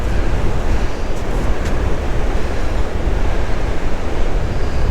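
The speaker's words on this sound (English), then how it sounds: "Thousands of gallons of water is just pouring out here." Strong river current pouring out at the mouth of the Rio Grande at Boca Chica, a loud, close, continuous rush of turbulent water mixed with wind buffeting the microphone, no voices.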